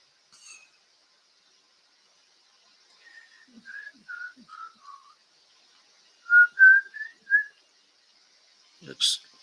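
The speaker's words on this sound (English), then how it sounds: "Excuse my whistling while I share." A person whistles a short tune in bright, clear notes, first a few scattered phrases and then a louder run of pitches, with pauses of near-silence between them.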